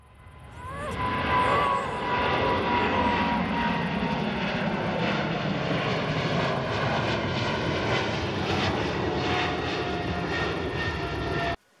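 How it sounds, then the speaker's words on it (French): A fixed-wing airplane landing nearby, its engines droning steadily and loudly for several seconds, a continuous roar with a slight pitch drift as it passes. "Regarde, il y a un avion là-bas qui atterrit."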